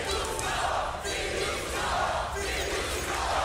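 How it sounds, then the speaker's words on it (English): An esports arena crowd at a Counter-Strike match roars and cheers in sustained loud swells, a dense wall of voices rising and dipping over a few seconds. "I think the crowd is letting us know who their favorites are right now"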